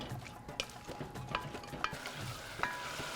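Onions sautéing lightly in a pan, with a quiet low sizzle broken by a few sharp spoon clinks against the pan, close and faint.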